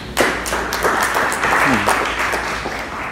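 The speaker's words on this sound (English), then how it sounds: "So let's give a warm round of applause for him." Audience at an evening talk on agile transformations applauding: a short burst of dense, close clapping from a room of people, with a voice briefly audible beneath it.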